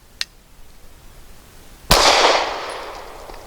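A Walther P99AS pistol firing a 138 grain Syntex round: a faint click first, then one loud, sharp close-range shot with a ringing decay trailing off.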